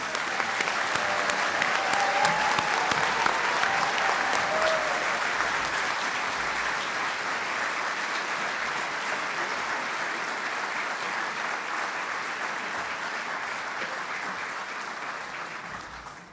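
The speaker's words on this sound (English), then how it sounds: "Let's give all of our students one more round of applause." Sustained, dense applause from an audience honoring medical students at a white coat ceremony, loud and steady for about sixteen seconds before gradually tapering off.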